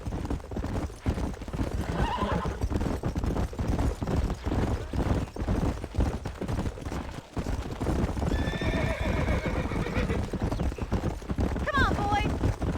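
Hooves thunder in a steady galloping rhythm alongside gunfire-like cracks, with several horses whinnying shrilly near the end and voices talking underneath, from the video game Red Dead Redemption.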